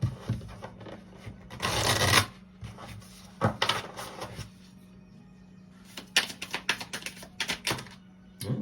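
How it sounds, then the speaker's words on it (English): A Wellness Island oracle card deck being shuffled by hand, with bursts of riffling and flicking cards, a louder rush early on and quick clustered flutters near the end. "Let's give it a good shuffle."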